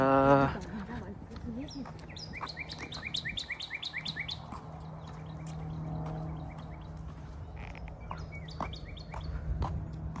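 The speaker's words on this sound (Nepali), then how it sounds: "चराचुरुङ्गीहरू कराउँदैछ।" Birds chirping in quick rhythmic bursts of tweets, with a low hum underneath and a brief voice at the start.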